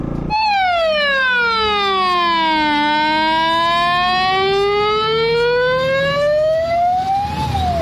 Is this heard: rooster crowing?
no